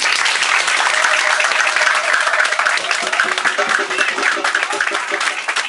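A church congregation applauds loudly and continuously, a dense wash of many hands clapping, with voices audible beneath the clapping.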